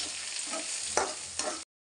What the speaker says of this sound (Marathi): व चांगल्या प्रकारे परतून घेत आहोत.